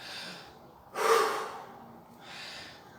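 Shallow shoulder breathing is demonstrated up close in a quiet room: a soft exhale, then a sharp, noisy inhale and another gentle breath, with no talking.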